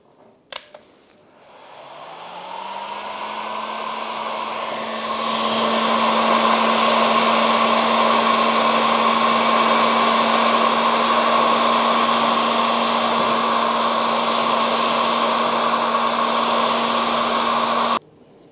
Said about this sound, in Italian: Decidete voi se farlo con il phon normale o il phon termico.